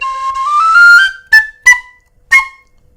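A Clarke tin whistle plays a held note that slides upward, then three short, clear separate notes, each bright and close with silence between.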